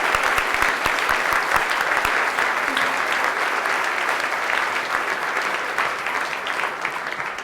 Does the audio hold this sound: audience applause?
yes